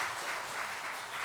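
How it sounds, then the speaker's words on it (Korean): A church congregation at a Sunday service applauds to welcome a new member, a dense, even round of clapping from many hands throughout. "우리 박수로 환영하겠습니다"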